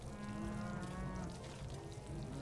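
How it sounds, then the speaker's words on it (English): Cows mooing in the video game RimWorld, a layered low drawn-out lowing from several animals close together, steady for the whole moment with no talk. "Listening to the cow noises on screen."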